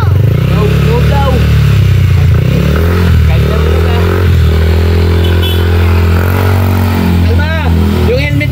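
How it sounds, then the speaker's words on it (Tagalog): A new motorcycle engine revs loudly and close by, its rising and falling drone partly buried under several people talking over one another. "bagong motor yan?"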